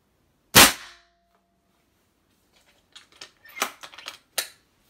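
A Benjamin Bulldog .357 air rifle fires one sharp, loud crack that decays quickly, followed after a pause by a few softer clicks and clacks of handling nearby.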